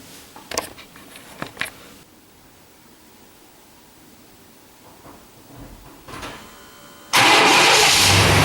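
A few clicks and a door-like knock, a quiet stretch, then the engine of a 1994 Chevy C1500 pickup truck cranks and roars to life loudly at the end.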